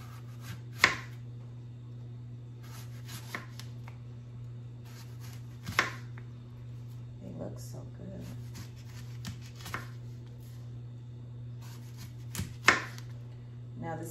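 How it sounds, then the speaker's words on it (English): Knife chopping through apples on a cutting board, a few sharp isolated cuts spaced several seconds apart over a steady low hum. "Seeds, you're gonna cut the seeds out."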